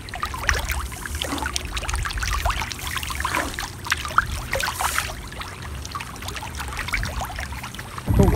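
Continuous watery splashing and churning of tilapia thrashing at the surface while feeding, with irregular louder splashes throughout.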